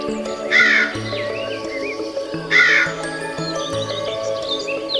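A crow caws in a storybook tale, two loud harsh caws about two seconds apart over soft background music, with no talking.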